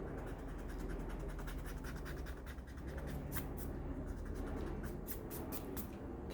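Pencil drawing and erasing on paper, a close, soft continuous scratching and rubbing with bursts of brisker strokes near the end, no voices.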